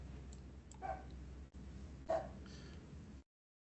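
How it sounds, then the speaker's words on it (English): A 17-year-old dog barks indoors, two faint separate woofs about a second apart against a quiet room hum. "And I'm sorry if you hear my dog barking."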